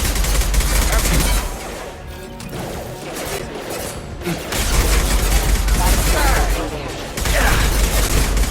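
Gunfire in Mass Effect 2 combat: loud rapid bursts of automatic weapons fire with impacts and mechanical clatter, dropping briefly then resuming, with a voice calling out at one point.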